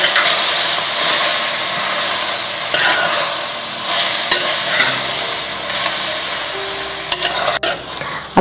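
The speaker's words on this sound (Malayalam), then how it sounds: "ഇത് നന്നായിട്ട് വഴറ്റി കൊടുക്കുക." Bitter gourd, shallots and green chillies sauté in a pan for a bitter gourd theeyal, giving a steady close sizzle with repeated scraping stirs and a few sharp utensil clinks near the end.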